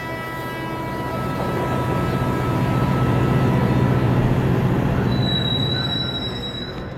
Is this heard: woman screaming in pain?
no